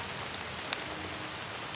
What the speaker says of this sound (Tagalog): ngayon ay pumapatak na yung ulan